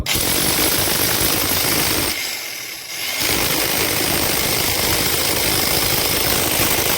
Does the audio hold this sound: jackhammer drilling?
yes